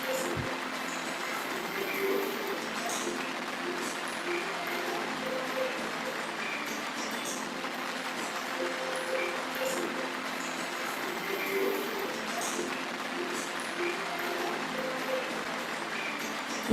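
Sustained applause from a conference audience greeting an award winner, a steady, even patter of many hands clapping from start to finish with no voices rising above it.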